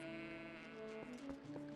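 Goats bleating in Zelda: Twilight Princess HD, a clear, sustained bleat with a wavering pitch followed by a couple of shorter calls, close and prominent.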